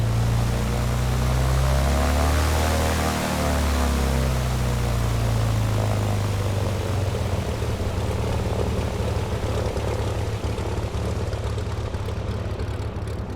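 A propeller airplane taxiing in Microsoft Flight Simulator: a steady, loud droning engine and prop hum with a sweeping rise and fall in pitch, continuous throughout with no talking.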